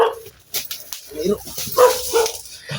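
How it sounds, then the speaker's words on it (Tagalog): Dogs bark in short bursts among people talking nearby, with a few yips between. "Mga aso."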